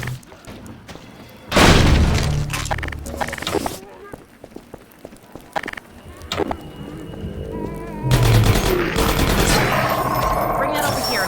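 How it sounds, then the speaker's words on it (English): In Half-Life 2, an explosion seals a cafe door. A sudden loud boom comes near the two-second mark, followed by scattered bangs and clatter, then a dense burst of gunfire-like noise near the end. "This explosion permanently seals the cafe door, which has a few benefits."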